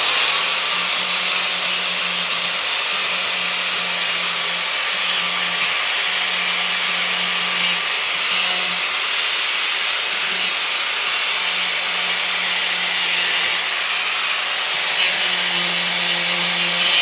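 A power grinder works steadily on staples in reclaimed hardwood flooring, giving a loud, continuous abrasive hiss with a droning motor hum that rises and dips slightly throughout.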